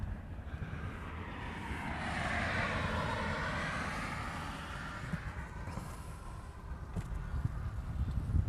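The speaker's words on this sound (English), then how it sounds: "We have the Majuro flight heading out to the end of the runway somewhere down there" A distant passenger airliner on the Majuro flight taxis toward the runway at Honolulu airport, its broad engine rumble swelling and easing in the middle, then a faint steady hum.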